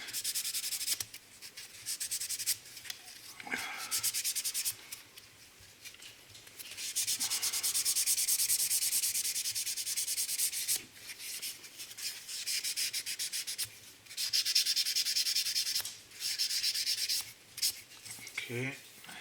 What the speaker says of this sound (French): je prends un 1500 et je viens poncer